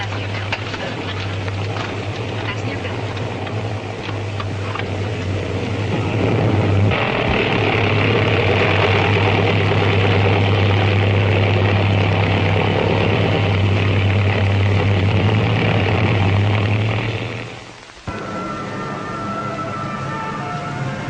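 A propeller airplane drones steadily in flight, a loud, continuous engine roar that swells in the middle and then drops off sharply near the end, with faint voices underneath.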